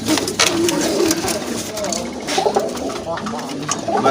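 Pink-beaked pet pigeons coo in a busy cluster nearby, their throaty calls overlapping steadily while someone talks over them at a pigeon sale.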